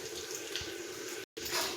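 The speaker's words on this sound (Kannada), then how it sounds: "ಮತ್ತೆ ನಿಮ್ಗೆ ಎಷ್ಟು ಬೇಕೋ ಅಷ್ಟು ನೀರು ಹಾಕೋಬೇಕು." Water splashes steadily from a tap or vessel into a cooking pot of boiled tomatoes for tomato saar, a short close gush with a brief break near the end.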